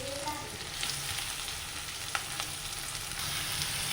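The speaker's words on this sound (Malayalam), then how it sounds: "പിന്നെ പൊടിയായി അരിഞ്ഞു വെച്ചിരിക്കുന്ന സവാള ഇട്ട് കൊടുക്കാം." Garlic, curry leaves and finely chopped onion sizzle in hot coconut oil for an okra roast, producing a steady, fairly loud frying hiss with light stirring and no talk.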